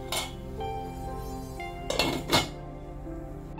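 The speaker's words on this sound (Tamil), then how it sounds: "மூடி வச்சிடலாம்." A metal lid is set down on a pan of cooking uttapam, with a couple of sharp clinks and a ringing metallic clatter close by, over a steady background hum.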